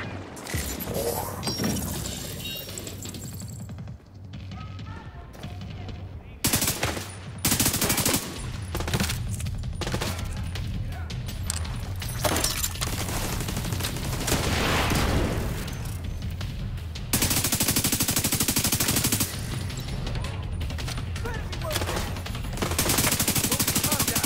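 Heavy gunfire erupts in The Division 2 during a Capitol Building firefight: sustained automatic bursts and single shots with occasional booms, loud and continuous throughout, and no talk.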